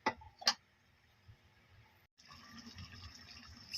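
Water poured into a cooking pot holding chicken and potatoes for a Filipino adobo-style dish; after a couple of clinks, a steady gushing fill runs for over a second, fairly quiet and without talk.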